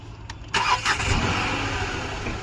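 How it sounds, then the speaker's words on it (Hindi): A Renault Triber's engine cranks briefly and catches, then settles into a steady mid-pitched idle heard close up, preceded by a couple of faint clicks and continuing evenly to the end. "इसका अगर स्टार्ट करें गाड़ी,"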